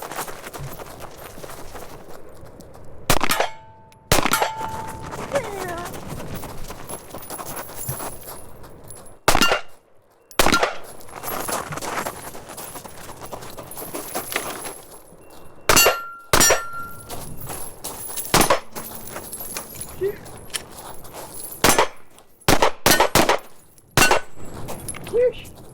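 Rapid, sharp gunshots from compact carry handguns fired at steel targets on an outdoor range, coming in irregular bursts and single shots with gaps between strings, under steady background noise and occasional talk.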